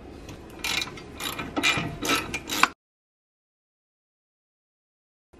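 A hand ratchet clicks rapidly and loudly in quick bursts while loosening nuts on a BMW E46 strut assembly during a coilover install, then stops abruptly into near silence.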